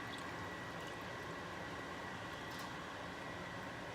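Liquid pours into a pork yok mix in a home kitchen, a steady unbroken rush that fills the whole stretch at an even level.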